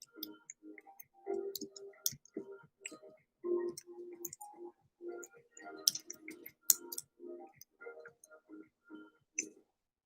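Typing on a keyboard: quiet, uneven runs of light clicking keystrokes with short pauses between bursts, close to the microphone, and no voice heard.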